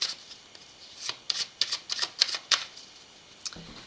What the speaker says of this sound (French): Je remélange un peu et puis on va aller chercher 2 fois 5 cartes